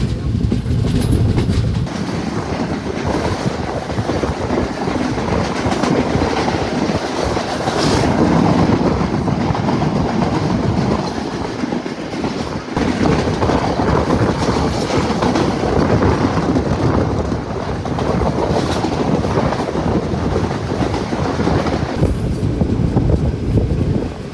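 A train rumbles and clatters steadily along the tracks in Sri Lanka on a Kandy route, heard from an open carriage door, loud and close, with wind buffeting throughout.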